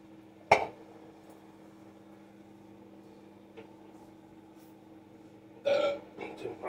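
Two loud burps break a quiet humming background, one short near the start and a longer one near the end.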